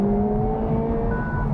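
Engine of a Honda Civic Type R, a front-wheel-drive hot hatch, holds steady revs: a dense, continuous mechanical drone with layered harmonics that stays loud and close for a short stretch, with no speech over it.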